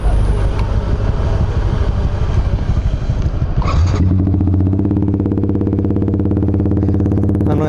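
A Yamaha R15 V3 motorcycle engine is revved hard, then drops to a steady, loud, close idle with a rapid, even exhaust pulse.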